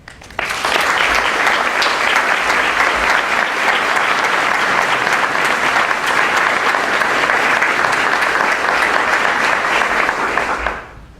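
Sustained audience applause fills a graduation ceremony for a gymnasium's 2018 class, a dense, even wash of clapping that swells in quickly, holds steady at full strength for about ten seconds, then cuts off.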